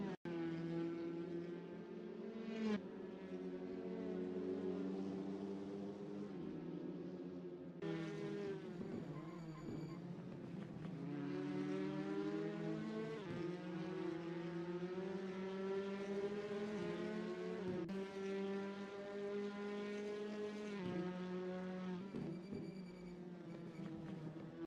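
Touring car engine in a sim racing game on a qualifying lap, a steady droning whine that rises through the gears with quick dips at each shift, heard alone at fairly close range.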